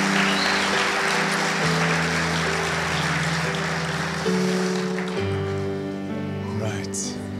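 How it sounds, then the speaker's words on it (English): A church congregation claps in a round of applause over sustained musical tones, a steady wash of hand claps that gradually thins toward the end. "Why don't we give them all a round of applause?"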